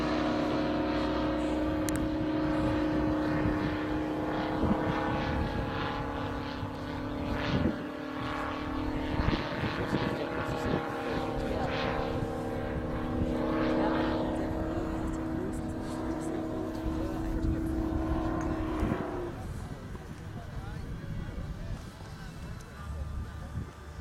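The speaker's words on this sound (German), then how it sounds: "Hier die Fokker, die gerade abrollt, hat einen 170 Kubik Viertakter Mallach-Motor eingebaut." Giant scale RC Fokker model plane with a 170cc Mallach four-stroke engine, a steady droning propeller engine with harmonic tones, rolling out under ongoing talk before cutting back near the end.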